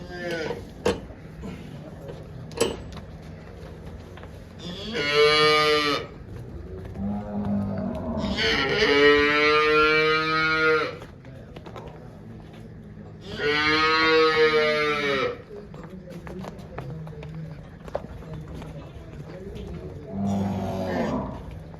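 Farm cows mooing with about four long, drawn-out, loud calls spaced several seconds apart over a quieter background of low rural noise and faint knocks.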